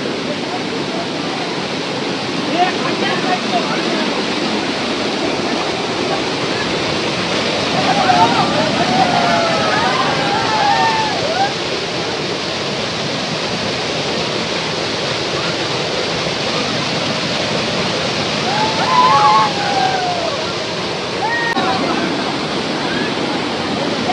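The Shivdav waterfall roars loudly and without pause, a thick wall of rushing water, with faint voices surfacing briefly beneath it.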